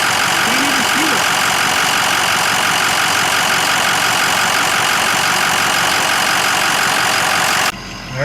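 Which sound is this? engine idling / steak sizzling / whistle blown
engine idling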